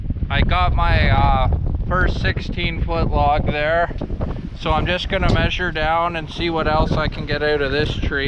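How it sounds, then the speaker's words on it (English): Strong wind gusts outdoors at a sawmill, a rough rumbling hiss that sits continuously beneath someone talking close to the microphone. "Well, it is super windy right now,"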